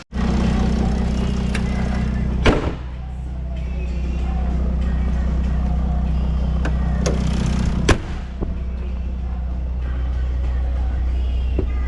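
A diesel Jeep engine turns over and fires, then settles into a loud, steady, rumbling idle close by, with two sharp knocking bangs a few seconds apart breaking through the running drone.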